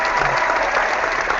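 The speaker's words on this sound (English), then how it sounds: "There's a clapping thing here I want to give you" An applause sound effect: a steady, dense wash of crowd clapping that holds at an even loudness for its whole length, with no voices over it.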